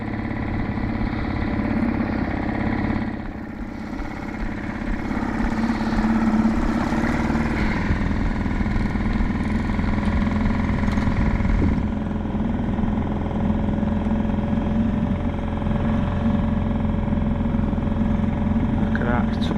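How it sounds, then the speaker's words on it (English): An old petrol outboard motor drives a small boat along a wild river in France, holding a steady, loud drone throughout with a short dip in the middle as someone talks over it. "I'm on the old petrol outboard now because my leisure battery ran out on the electric."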